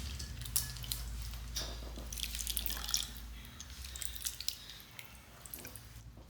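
Tamarind is squeezed by hand in water for a fish curry, giving soft wet squishes and drips close by, faint and uneven.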